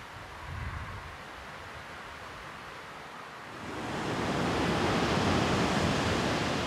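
Sea waves surge against Daewangam, a rock off Bonggil beach in Korea, a broad hissing wash that swells louder midway and keeps roaring, with no voices.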